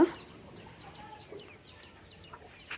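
Farmyard chickens cluck softly in a quick series of short, faint calls against quiet background noise, with a brief knock at the start and end.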